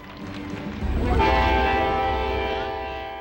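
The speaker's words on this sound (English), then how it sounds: "This is the train that carried the President and Mrs. Clinton on their 1996 whistle-stop campaign tour" A train rumbles close by while its horn sounds a long, loud, sustained blast that slowly fades; the train once used for a 1996 presidential whistle-stop campaign tour.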